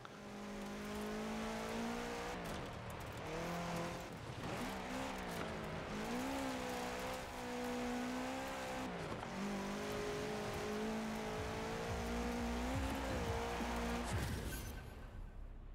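A 2005 Subaru revs its engine in the racing game Forza Horizon 4, set during a winter season event. The engine note holds loud and steady with rising and falling pitch sweeps, alone and without talk.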